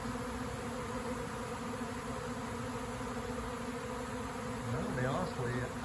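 A honeybee swarm buzzes around nuc boxes, a dense, steady hum of many bees that stays close and even for the whole stretch. A voice comes in briefly near the end.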